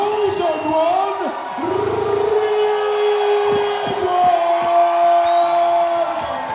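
A boxing arena crowd in Singapore roars and cheers loudly for a home fighter's ring introduction, a sustained wall of shouts and whoops with a voice carrying over it.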